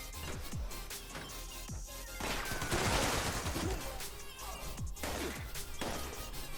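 Explosive rounds from a two-shot .50 cal machine gun in Fallout 76 pound out a continuous barrage of blasts and crashing impacts, swelling to a dense roar midway before settling into repeated booms.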